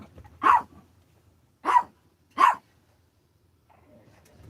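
Several dogs bark outside near an RV at someone walking by, three distinct loud barks spaced about a second apart, then quieter rustling.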